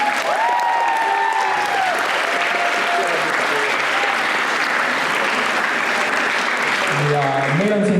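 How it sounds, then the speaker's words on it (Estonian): A school audience at a Tartu Tamme Gymnasium event gives the jury a loud, dense round of applause that runs throughout, with a voice speaking over it at the start and end. "Anname neile äkki suure aplausi"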